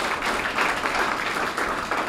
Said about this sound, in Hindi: मैं चाहूंगा एक बार जोरदार तालियों के साथ में इनका स्वागत करें